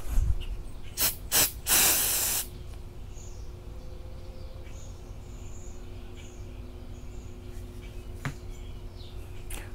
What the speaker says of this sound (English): when I spray the hardening on it